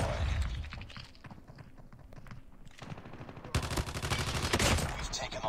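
Rapid automatic gunfire rattles loud and close in the mobile shooter Call of Duty Mobile, bursts running through most of the stretch with a dense volley toward the end and a voice heard briefly.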